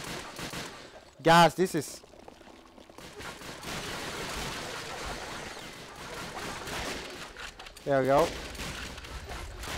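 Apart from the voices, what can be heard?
gunfire while shooting Germans in video game Call of Duty: Finest Hours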